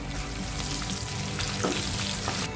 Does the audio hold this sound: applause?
no